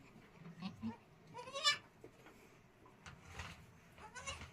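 Newborn goat kids in a farm shed give several short, wavering bleats at close range, spaced irregularly over quiet background.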